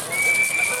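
Crowd whistling at a player during a sixth-division Paraguayan football match, Deportivo Paraguayo against Waio, heard as one sharp, high, sustained whistle over a noisy background.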